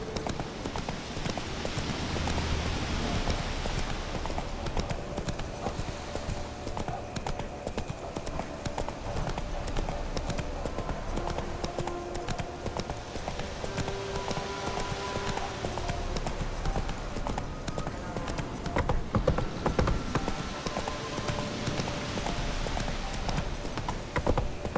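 The horse Roach walks in The Witcher 3, its hooves giving a steady, moderately quiet clip-clop that continues throughout the scene.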